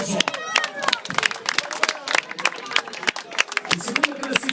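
A crowd claps in applause for the third-place rider at a Sicilian FMI enduro championship awards ceremony in Siracusa, with dense, uneven hand claps going on for several seconds and voices mixed in.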